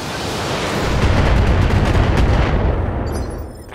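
Heavy weapons fire from battle mechs pounding a turret in the video game BattleTech, a loud dense rumble of blasts and booms that swells and holds for a few seconds before easing off.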